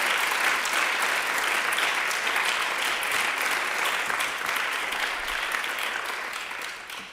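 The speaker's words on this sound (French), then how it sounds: "à Sophie Godden, à Elisa Vedeka, qu'on peut encore applaudir pour leur travail." Sustained applause fills a parliament chamber, a dense, even patter of many hands that holds steady and then gradually fades toward the end, with no voices over it.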